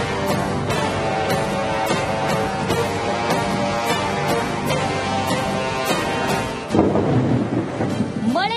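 Heavy rain pours down steadily during a thunderstorm in Deepanjali Nagar, Bengaluru, with a dense roar of rain and a loud thunder crack late on, and no voices.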